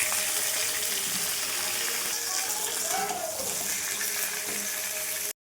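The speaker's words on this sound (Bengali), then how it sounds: "মাংস করার জন্য আমি আলুগুলো আগে ভেজে নিচ্ছি।" Potatoes fry in hot oil in a pan, ahead of cooking mutton curry, giving a continuous, close, moderately loud sizzle and crackle that stops abruptly at the end.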